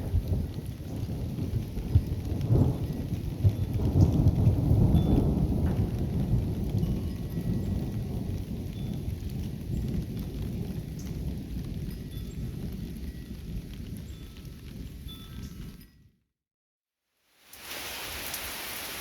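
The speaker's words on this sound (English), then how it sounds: "Thunder." Heavy rain pours steadily during a dark thunderstorm, with deep rolling thunder rumbling through the first few seconds, then a loud continuous downpour that cuts out briefly near the end before resuming.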